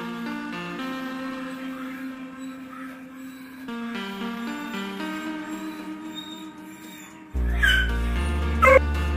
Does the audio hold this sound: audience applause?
no